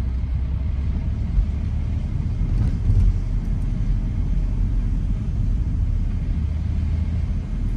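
A car drives and turns onto Northwest 30th Avenue in Miami's Little Havana with a continuous low rumble of engine and road noise, steady and close, with no speech.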